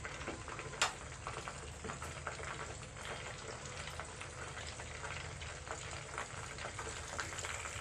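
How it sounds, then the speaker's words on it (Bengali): Chicken fries in hot oil in a home kitchen, a steady, close crackling sizzle with a few sharp pops and stirring clicks throughout, with no voices. "আমি এপিট ওপিট করে কিন্তু 2 পিঠেই দ্বিতীয়বার ভেজে নিলাম"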